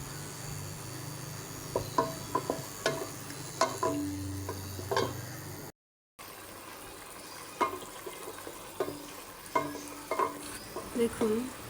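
Potato and cauliflower curry stirred and frying in a pan, with soft sizzling under a run of scattered spoon scrapes and taps against the pan, faint and close, broken by a brief silent gap.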